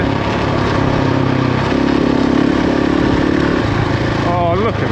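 Motorbike engine on a sandy trail during a solo ride, a steady, loud near drone that dips and shifts pitch as a gear change lands partway through, with wind rushing throughout.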